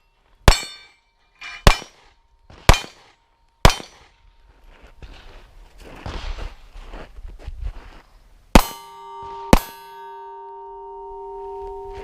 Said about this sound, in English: I'm out of magazine, let's say. Click it out.